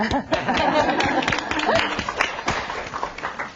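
An audience at a talk on ending child and mother mortality breaks into applause, dense clapping with some chuckles and chatter mixed in, fading slightly toward the end.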